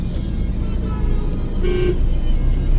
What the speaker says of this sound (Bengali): এইরকম হর্ন দিয়ে রাস্তায় চলে, কানের পোকা বের করে দেওয়ার মতন হর্ন